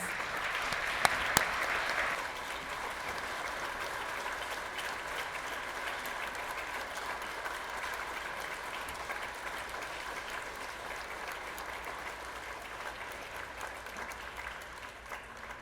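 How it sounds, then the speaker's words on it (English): Long, sustained applause from members and guests in the California State Assembly chamber during a Holocaust Remembrance Day floor ceremony; a dense, even roar of clapping, a little stronger at the start with a few sharp claps, then holding steady. "please join me in a nice, long round of applause for our very special guests and their families"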